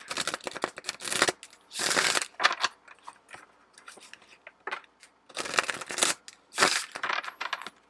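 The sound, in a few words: shuffling a tarot card deck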